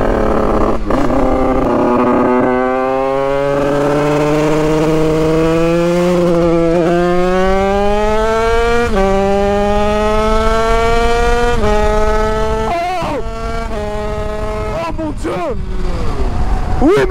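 A Yamaha DT 100cc motorcycle is ridden hard, its engine climbing in pitch through several gears in repeated rising sweeps, loud and close, with brief drops between shifts.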